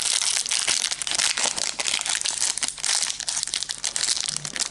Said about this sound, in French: on commence par l'ouverture du premier booster